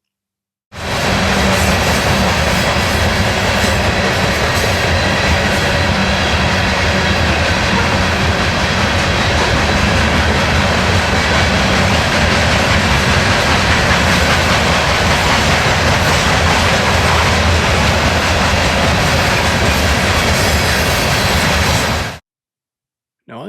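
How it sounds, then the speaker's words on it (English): A westbound freight train rumbles past loudly and continuously for about twenty seconds at Cully Park in Portland, Oregon, wheels clattering and roaring, then cuts off abruptly. "as I watched this train continue to proceed west"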